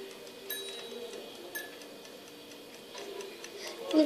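A ball-shaped kitchen timer ticks steadily and faintly in a quiet room, its small regular clicks running throughout with no talking.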